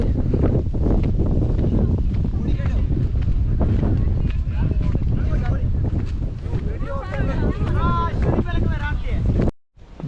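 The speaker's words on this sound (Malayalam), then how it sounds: "ഫുൾ നല്ല കാറ്റ് ഒരു രക്ഷയില്ലാത്ത കാറ്റ്" Strong wind buffets the microphone in a constant loud roar at Ramakkalmedu hilltop, with a voice faintly heard beneath it before a brief sudden drop.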